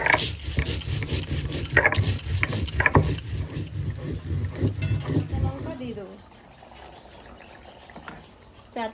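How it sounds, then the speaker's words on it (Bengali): Spice paste is ground by hand on a grinding stone, with repeated close rasping, rubbing strokes that stop about two-thirds through, leaving quieter background sounds and occasional faint voices. "এবার আমি মশলাটা বেটে নেবো"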